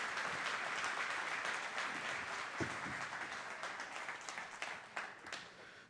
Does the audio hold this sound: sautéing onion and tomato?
no